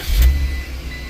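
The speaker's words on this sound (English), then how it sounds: "and I'm gonna start it now." A Ram ProMaster van engine cranks and catches in one short loud burst, then settles into a low rumbling idle, close by with no talk.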